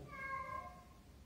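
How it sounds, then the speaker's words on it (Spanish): A single drawn-out cat meow, tonal and fairly close, fading toward the end over low room hum, with nobody speaking. "hay un gatito, se llama Gering"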